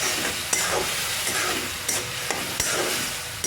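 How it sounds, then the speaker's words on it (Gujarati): Macaroni pasta with oil is stirred in a hot pan, giving a steady sizzle with soft scraping strokes and a few small clinks of the spoon, close and fairly loud. "આ રીતે હલાવવાનું છે આપણે।"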